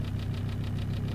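A car engine idles at a steady, even rumble on a cold morning as it warms up, with a slight rhythmic knock pulsing through the low drone, close and continuous, with no voices.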